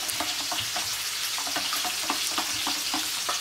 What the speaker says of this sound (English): And we beat again, so we combine eggs and cream.